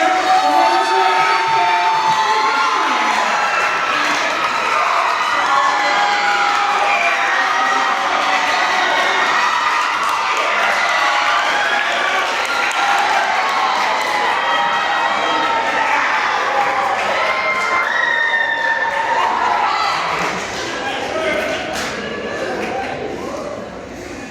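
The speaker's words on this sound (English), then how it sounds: "I want you to clap it up for Kwame Alexander" Audience at a Newark library event cheering, shouting and clapping for author Kwame Alexander, a dense, loud crowd roar that holds steady for the whole stretch before easing slightly near the end.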